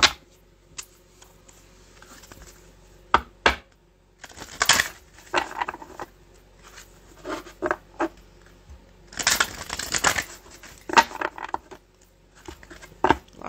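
A deck of tarot cards is shuffled in short bursts of riffling and flicking, with several separate close, crisp rustles and pauses between them.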